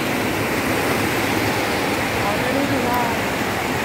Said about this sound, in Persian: آبه که از آسمون داره میریزه